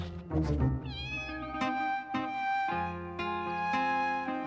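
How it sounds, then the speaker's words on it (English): A cat in a children's cartoon meows several times in a row, clear and close, with drawn-out tonal cries and short pauses between them. "And I must leave Pablito the cat here."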